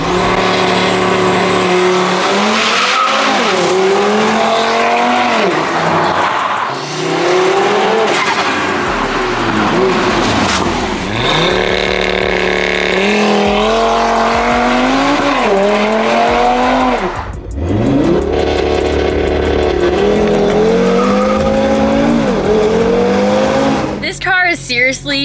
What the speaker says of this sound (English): Like, it sounds like a full proper rally car now.